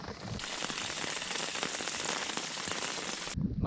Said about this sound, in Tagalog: Tingnan mo doon sa malayo, lakas ng ulan.